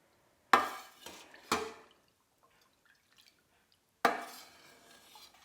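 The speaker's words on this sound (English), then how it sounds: "we're going to take the slotted spoon and just mix the curds a little bit" A slotted spoon moves through goat milk feta curds in a pot: three separate clinks and scrapes, two close together and one after a quiet gap, each fading with a soft wet trail.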